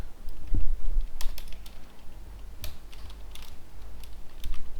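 Someone types code on a computer keyboard in short bursts of quick key clicks with brief pauses, close and moderately loud.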